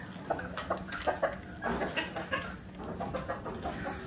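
Domestic hens on a small native chicken farm cluck repeatedly in short, close bursts, with some fowl calls overlapping through the few seconds alone without talk.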